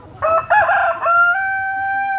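A tiger-breed rooster crows loudly and close by in one drawn-out call that begins with a few rough clucking notes and ends on a long, steady held tone.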